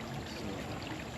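A small waterfall splashes in a beaver enclosure at a nature center, a steady close rushing pour that fills the short moment with no talk.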